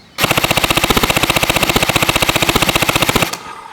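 A Sturmgewehr 44 gel blaster running on an 11.1-volt LiPo battery fires on full auto: a loud, close, rapid burst of evenly spaced shots, about fifteen per second, lasting around three seconds and then stopping abruptly.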